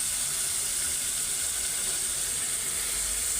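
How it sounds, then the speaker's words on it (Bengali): Prawns hit hot, cooked-down spices in a pan, giving a steady, close hiss of frying throughout, alone with no voices. "মশলাগুলি কষে আসছে, তো চিংড়ি মাছগুলি দিয়ে দেই।"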